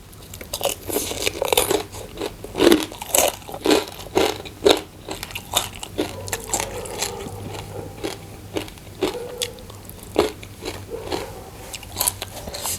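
Crispy Thai pork rinds (khaep mu) crunched close to the mic, a long run of loud crisp bites and chewing crackles in irregular rhythm, no talk.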